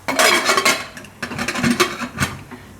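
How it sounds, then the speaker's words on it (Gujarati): A pressure cooker lid is closed with a run of metallic clanks and scrapes, several sharp knocks of metal on metal in quick succession, close and fairly loud in a kitchen while chickpeas are being boiled. "એ કુકરનું ઢાંકણું બંધ કરી દઉં"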